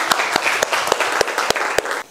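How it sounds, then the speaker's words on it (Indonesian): Schoolchildren in a classroom clap in unison for a classmate during a religious studies lesson, a steady rhythmic beat of sharp group claps at a regular pace, then stopping abruptly. "Tepuk tangan buat teman kalian."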